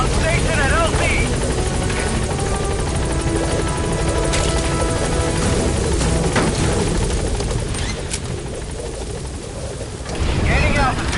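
Helicopter hovering and flying over a landing zone in the Metal Gear Solid V: The Phantom Pain video game, a loud steady rotor roar that fills the whole clip, with gunfire-like bursts and radio-style voices speaking over it.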